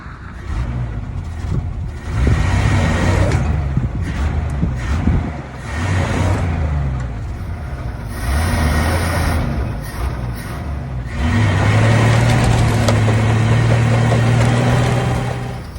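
A 1966 Chevy C-10 pickup's engine runs loud and close, a rough rumbling idle that swells into several revs and drops back, continuous throughout with no talking.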